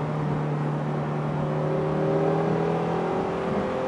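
Shelby GT350 engine pulling hard on a cold highway, a steady loud drone with rising tonal harmonics as it gains speed, wind and road noise underneath, no talk.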